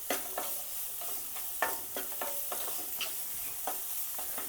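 Onions sautéing with a pinch of salt in a pan for misal pav, giving a quiet, steady sizzle with occasional light scraping stirs, close but faint.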